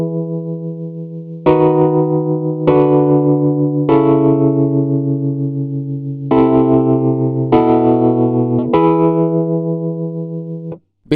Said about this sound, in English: So here's our simple chord progression,